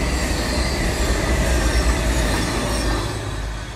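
A train rumbles past through a park, a loud, steady rolling clatter of wheels on rails with faint squeal, sustained throughout and fading slightly at the end.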